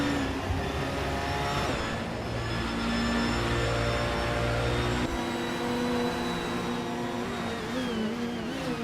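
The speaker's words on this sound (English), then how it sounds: "The Peugeot RCC is doing well in second, but the Mini Coopers are close behind." Racing cars, including a Peugeot RCC and Mini Coopers, drive around a track in a steady loud engine drone with shifting pitch, no voices over it.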